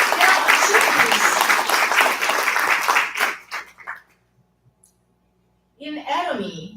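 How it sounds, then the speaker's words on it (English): An audience at an Atomy company award ceremony bursts into loud, dense applause that fades out after about three seconds. A short near-silence follows, then a voice begins speaking. "let's give them big round of applause"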